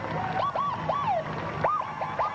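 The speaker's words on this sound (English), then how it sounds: "Lots of noise, sirens, people shouting, and they haven't even gotten to Manhattan yet." Emergency vehicle sirens wail in repeated rising and falling sweeps along the course of the 1990 New York City Marathon, heard over a steady background of crowd noise.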